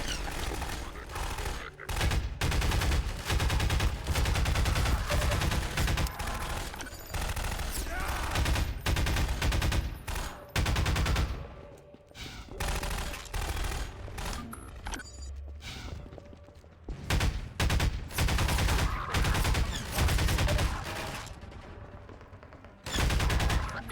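Repeated bursts of gunfire from a Half-Life 2 firefight ring out across a dense, busy mix, loud and sustained with brief lulls, and a player's voice occasionally talks over it.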